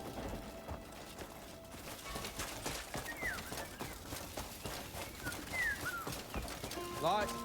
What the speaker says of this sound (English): the birds and the environment is very good